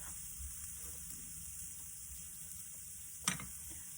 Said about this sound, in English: So now you just need to saute it